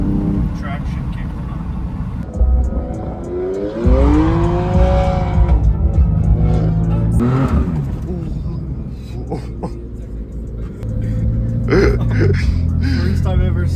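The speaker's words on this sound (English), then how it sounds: "First time ever sliding it out." A BMW M3 slides out on a corner with gravel, its tires squealing in rising, wavering tones over engine noise, while people talk and react nearby.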